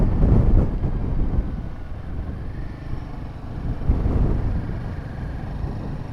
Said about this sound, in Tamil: வேறு லெவலில் காற்றடிக்குது.